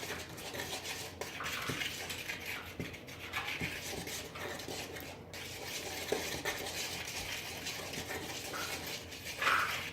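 Baking powder being whisked into dry ingredients for dumplings in a bowl, a quiet, steady scraping and stirring rhythm heard close up with no talking.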